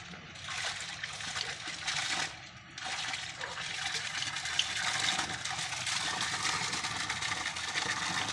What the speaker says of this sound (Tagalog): Yan tinatawag na parang flowing water.